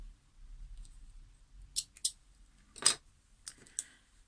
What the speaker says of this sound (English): you want your red thread to be double. So I'm just going to snip that off.